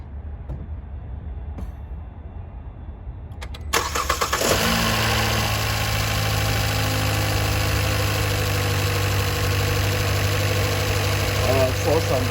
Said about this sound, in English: Let me go in there and crank this car